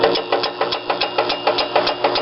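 A circa 1940 American deli meat slicer with an Emerson motor runs close by, a steady motor hum under a quick regular ticking as the spinning blade catches its guard about five times a second.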